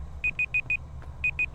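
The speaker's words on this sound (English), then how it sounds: "Oh, and there's the alarm." An alarm in the horror video game Forewarned gives a high, thin electronic beep in two quick bursts, four evenly spaced pulses then three more after a short gap, clear over a low steady rumble.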